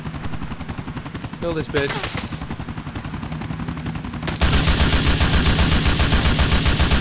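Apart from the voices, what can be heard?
gunfire in the video game GTA IV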